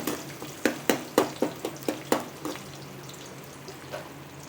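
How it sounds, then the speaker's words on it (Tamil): Chopped onions sauté in hot oil for a Chettinad egg masala curry, giving a run of crackling sizzle bursts that ease into a softer, quieter fry. "இது பொரிஞ்சதும் நம்ம கட் பண்ணி வச்சுருக்க வெங்காயத்தை அதில் சேர்த்துக்கலாம். இந்த வெங்காயம் நல்லா வதங்கட்டும்."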